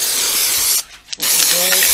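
Spray adhesive hisses in broad bursts onto carry cot wadding, a loud continuous spray that breaks off briefly mid-clip before resuming, with a short faint tone near the end.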